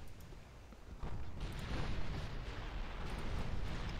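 Torpedo hits exploding against a ship in the naval battle game Ultimate Admiral: Dreadnoughts, a deep rumbling blast that swells suddenly and then rolls on as a sustained, noisy roar with no talk over it.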